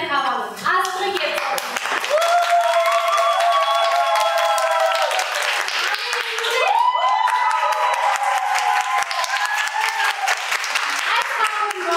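An audience at a children's TV show claps to vote for a favourite hairstyle, steady dense applause running throughout with voices and cheering layered over it.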